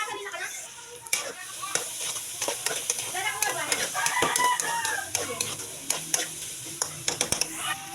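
Hotdogs and carrots are stirred in a frying pan, with steady sizzling broken by sharp, irregular scrapes and clicks of the utensil against the pan throughout.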